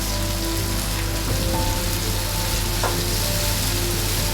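Steady, fairly loud sizzling and bubbling as a little water goes into mustard paste and spices frying in a pan for a Bengali brinjal curry, a continuous hiss with faint clinks and no voices.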